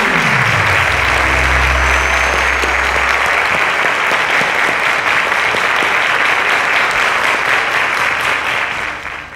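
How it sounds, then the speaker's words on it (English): Studio audience on a quiz show applauding loudly and steadily for several seconds, a dense wash of clapping that tapers slightly at the end, with a low musical sting fading out at the start. "A round of applause to Amara, ladies and gentlemen."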